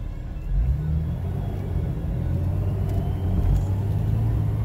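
A truck idles and rumbles in four-wheel low, a steady low engine drone heard close up with slight surges in loudness and no talking.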